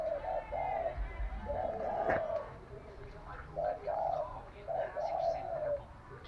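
A decoy dove coos in a repeated series of soft, low calls, close and fairly clear, with faint background noise between the phrases.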